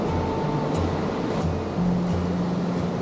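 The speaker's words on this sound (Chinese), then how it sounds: "渐渐听到溪水的冲击声" A mountain stream rushes over rocks in a deep gorge along the Hehuan River trail, a steady, dense roar of water without pause and no voices.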